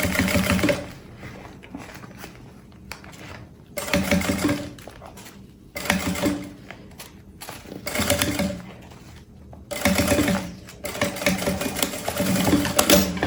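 A sewing machine stitches bias binding onto a bag pocket in several motor bursts separated by short pauses, loud and close with a steady mechanical whir and no talking.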